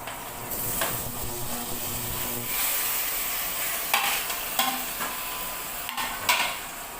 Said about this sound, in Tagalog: Isosatay lang natin siya together with the garlic and onion hanggang sa mag-light brown din ang texture ng pork.